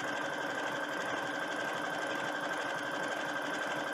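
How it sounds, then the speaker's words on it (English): A Brother sewing machine runs a stretch stitch along the seams of a bodice, a steady close mechanical whirring and rapid needle clatter that continues evenly throughout with no talking. "So I'm going to use that stitch and sew this together."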